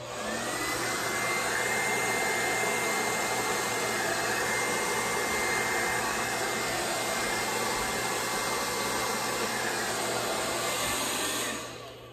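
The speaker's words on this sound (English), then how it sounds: "I may just use the blow dryer" A blow dryer runs continuously at high speed, a loud steady whoosh and whine that cuts off at the end.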